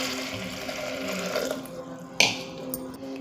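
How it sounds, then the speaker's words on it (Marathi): Water pouring into a pressure cooker holding sprouted moth beans (matki) in a home kitchen, a steady close splashing stream for about two seconds, followed by a sharp clink and quieter handling. "त्यामध्ये आपल्याला लागेल तितकं पाणी ओतून घ्यायचं आहे."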